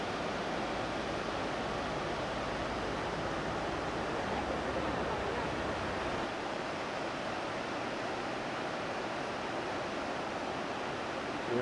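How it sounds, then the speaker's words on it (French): Steady, roaring surf of large ocean waves breaking continuously at the mouth of the Bidasoa estuary, a dense wash of noise with no pauses and no voices. "Les grosses vagues"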